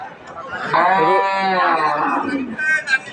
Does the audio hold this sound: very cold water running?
no